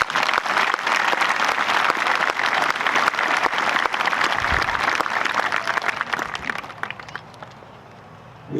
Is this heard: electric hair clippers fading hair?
no